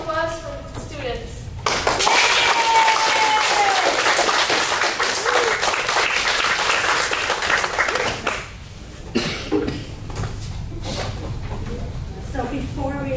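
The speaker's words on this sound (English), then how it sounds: "Round of applause for the students." A community center audience breaks into loud, sustained clapping for graduating students, with talking before it begins and voices returning as it fades out.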